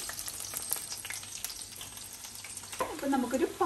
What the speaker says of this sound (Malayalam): ഏകദേശം ഒരു മൂന്നാല് മിനിറ്റ് നമുക്ക് എണ്ണയിൽ ഒരു ലോ ഫ്ലെയിമിൽ കിടക്കുമ്പോഴത്തേക്കും നമ്മുടെ ഒരു സൈഡൊക്കെ ഒന്ന് റെഡി ആയിട്ടുണ്ട്.